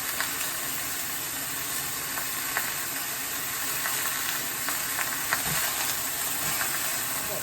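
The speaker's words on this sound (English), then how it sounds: "I got my sausage browned up." Sausage browning in a frying pan in a home kitchen, giving a steady close sizzle with soft crackles and pops throughout, no talking.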